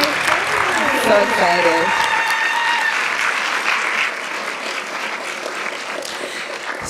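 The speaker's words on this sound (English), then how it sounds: "Let's give him another round of applause." Audience applause fills the room at a live talk event, steady and dense throughout, with a speaker's voice over the start.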